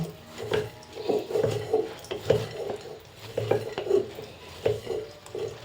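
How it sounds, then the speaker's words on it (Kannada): A spoon scrapes and clatters against a pot while spiced puffed rice (mandakki) is tossed and mixed, giving a steady run of close, rhythmic stirring knocks and rustles with no talking. "ಈ ರೀತಿ ಪಾತ್ರೆಯಲ್ಲಿ ಶಿಫ್ಟ್ ಮಾಡ್ಕೊಂಡಿದ್ದೀವಿ ಈ ರೀತಿ ಮಿಕ್ಸ್ ಮಾಡ್ಕೋಬೇಕು"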